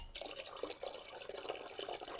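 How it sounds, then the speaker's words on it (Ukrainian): Continuous stream of water splashing as it is drained from jars of cucumbers into a pot, steady and close, with no voices. "Тепер водичку зливаємо в каструльку."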